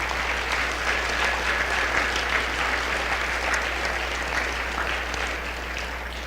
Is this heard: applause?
yes